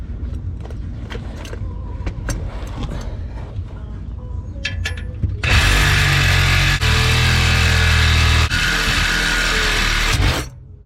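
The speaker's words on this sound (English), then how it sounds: "First we have to cut out the old muffler." An old car muffler being cut out of an exhaust system: quiet clanking and handling of metal parts, then a loud, steady cutting roar about halfway through that runs continuously for several seconds before cutting off.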